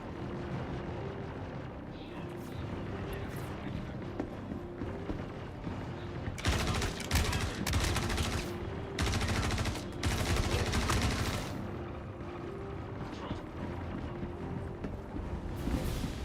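Rapid gunfire crackles in the space game Star Citizen, two dense bursts of loud shots standing out over a constant low engine-like rumble and mechanical hum, no clear talk.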